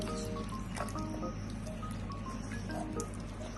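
Wet squishing and dripping of mutton being worked into a chili-powder marinade by hand, a steady close, low-level squelching with soft liquid drips throughout, no voices.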